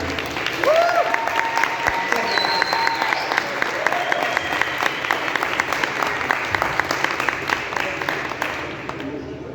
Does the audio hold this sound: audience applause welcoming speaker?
yes